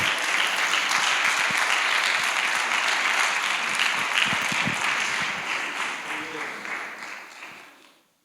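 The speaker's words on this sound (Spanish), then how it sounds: "Y el aplauso muy fuerte y para el Señor" A church congregation gives loud, sustained applause that fills the room, then fades out toward the end with scattered claps.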